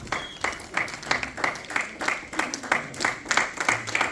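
Audience clapping for an ambassador at a Congolese community reception in London, a modest crowd applauding with a loose, uneven rhythm of distinct hand claps, steady throughout.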